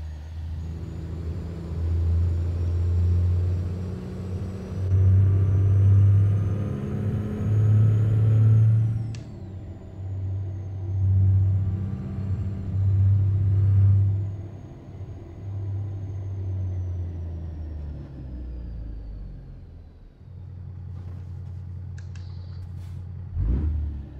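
Detroit diesel engine of a Peterbilt 389 truck in American Truck Simulator rumbles deep and loud, swelling and falling as it accelerates through gear shifts on an interstate, with a brief hiss near the end.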